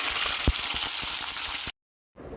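Ivy gourd pieces sizzle and crackle steadily in hot oil with a few sharp pops, then the sound drops out abruptly before returning quietly.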